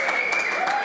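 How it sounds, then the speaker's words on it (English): An audience applauds a school team at a Formula race day national finals event, a brief burst of steady clapping over a faint tonal background. "big round of applause for you"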